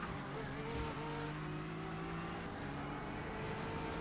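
A Ford GT race car's engine holds a steady, droning tone in the iRacing simulator, with a sustained hum and a slight pitch shift partway through, moderately quiet and continuous.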